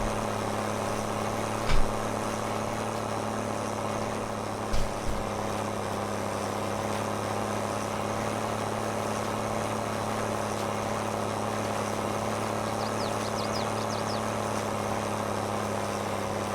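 A tractor engine in Farming Simulator 22 hums low and steady throughout, running low on fuel and slightly damaged, with a couple of faint knocks and a brief high chirping near the end.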